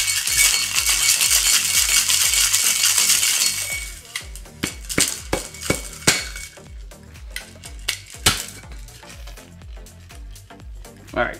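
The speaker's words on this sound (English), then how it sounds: "We're gonna put some ice into our cocktail shaker. Let's mix this up." Ice rattles hard inside a cocktail shaker while a dark tiki drink is mixed: a steady dense clatter for about four seconds, then sharper scattered clinks and knocks of ice and glass.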